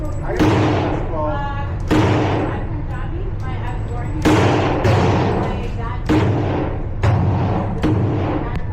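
Shots fired at a gun range, a series of loud, evenly spaced booming reports roughly a second apart, with people talking between them.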